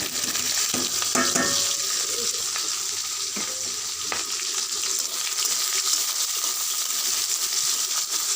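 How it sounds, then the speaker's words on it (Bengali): Chopped onion, garlic and green chili sizzling in hot oil with five-spice, a steady close hiss of frying with a few clinks and stirring scrapes early on, no voices. "এটা আমরা লাল লাল করে ভেজে নিব।"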